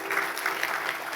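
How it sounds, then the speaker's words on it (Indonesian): An audience claps in a brief, steady burst of applause, fairly faint and evenly spread, with no voices standing out. "Berikan tepuk tangan."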